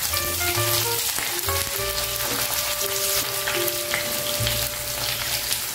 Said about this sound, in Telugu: కరివేపాకు వేసుకుని ఉల్లిపాయలు పచ్చిమిర్చి వేసేసుకుంటాం.